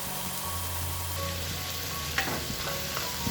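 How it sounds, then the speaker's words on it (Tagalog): Tomatoes cook in a pot for fish sinigang, giving a steady low sizzle and bubbling, with a few faint scrapes and clinks of a utensil stirring near the end. "ihalo natin para naman na pantay yung pagkakaluto ng ating kamatis"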